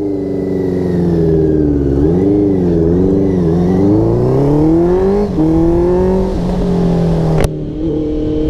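A Honda CBR650F motorcycle engine revs up and down loudly while riding, its pitch climbing and dipping through several gear changes with a brief cut near the end.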